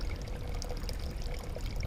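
Loch water poured through a portable filter into a water bottle: a close, steady trickling pour that lasts the whole short moment, with no one speaking.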